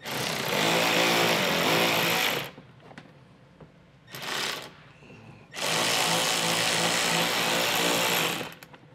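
Working on a 2015 Mercedes hitch setup, a power tool with a socket whirs loudly on a 10 mm bolt in two long bursts with a short burst between them, separated by quieter pauses.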